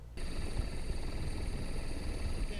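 A rescue helicopter hovers over a moving Panamanian-flagged ship at sea, its rotor thudding steadily and loudly throughout after a brief quiet start.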